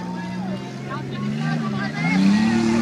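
Engine of race car number 86 approaching at a car stunt show, a steady motor drone rising in pitch and loudness as it nears, with people talking over it.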